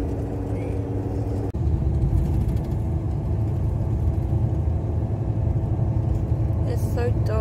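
Steady low engine drone and road rumble of a night coach bus, heard from inside the cabin, continuous throughout with a brief dip near the start and a few faint higher chirps near the end; no talking.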